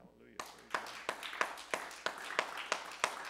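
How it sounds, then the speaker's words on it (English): Church congregation clapping hands together in a steady rhythmic beat, about three claps per second, close and fairly loud, with a brief murmur before it starts. "Give him a hand clap."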